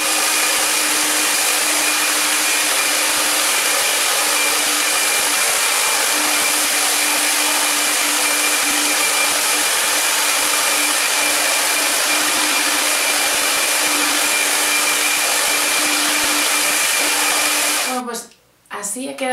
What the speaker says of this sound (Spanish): voy a secarlo con el secador y voy a peinarlo con la plancha